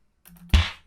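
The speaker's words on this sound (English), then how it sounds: "That's a snare." A synthesized snare drum drenched in reverb hits once, sharp and bright, then washes away into a fading tail after a brief low hum and soft clicks.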